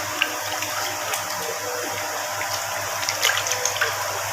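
Water being stirred in a tub or bucket to dissolve a washing additive before cotton shirts are soaked, a continuous close swishing and sloshing with a few small splashes, no talking.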